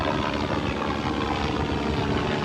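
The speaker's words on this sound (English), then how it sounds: "Helicopter coming out doing a tour." A tour helicopter passes overhead, a loud, steady, broad rotor and engine roar with no talk.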